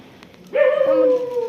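A dog gives a loud, sustained yelping bark close by, starting partway through after a quieter stretch, with a tonal, whining quality.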